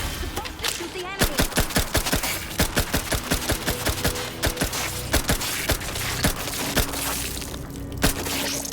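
Rapid gunfire at an enemy in the sci-fi shooter The Outer Worlds 2: a loud, regular string of sharp shots with mechanical clatter, close and steady, thinning out toward the end.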